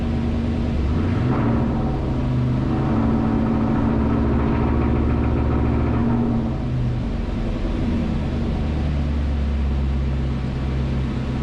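A Terminator Mustang engine with Holley EFI idles on a dyno with a steady low rumble and hum, close and constant throughout, with a slight rise in tone midway.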